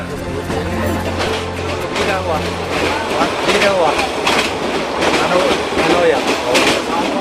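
Third-class train carriage running on a journey of over thirty hours, a loud continuous rumble with rhythmic clatter of wheels on track, passengers talking faintly inside the carriage.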